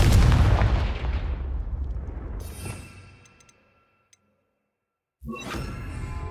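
In the Hogwarts Legacy video game, the Confringo fire spell lands as a loud rumbling blast that fades into near silence. A brief tick follows, and then another burst of noise starts.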